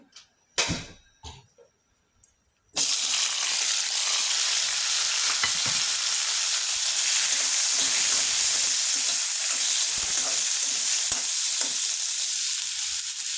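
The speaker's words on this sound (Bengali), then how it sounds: "এই কচুটা আমি সিদ্ধ করে রেখেছিলাম কেটে ধুয়ে সিদ্ধ করে রেখেছিলাম এখন আমি এটা তুলে ভেজে নিলাম" Boiled moulvi taro pieces drop into hot oil after a few knocks and handling sounds, then a loud, steady frying sizzle fills the rest of the clip.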